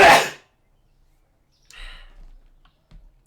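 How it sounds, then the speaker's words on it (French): One loud, close sneeze bursts out at the start, followed by a long silence and then a few faint, brief rustles and clicks. "J'ai éternué."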